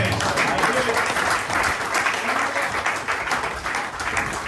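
A church congregation applauding during a French-language sermon, a steady wash of clapping and cheering voices that stays loud and dense throughout without a break.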